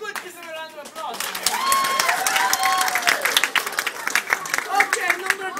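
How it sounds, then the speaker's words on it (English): Children's camp audience bursts into lively clapping and cheering, dense and close, with shrill kids' voices and whistly shouts mixed in throughout. "Give them a round of applause!"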